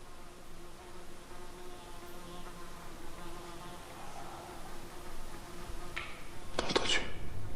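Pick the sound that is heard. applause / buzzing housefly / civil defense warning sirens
buzzing housefly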